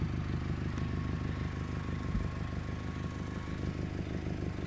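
A vehicle engine idles at the roadside beside a fire hydrant, giving a steady low rumble with a light clattering texture and an even, unchanging level throughout.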